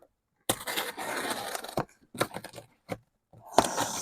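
Adhesive packing tape ripped off a roll in several bursts: a long loud tearing screech, then two shorter pulls and a final quick rip, with pauses between.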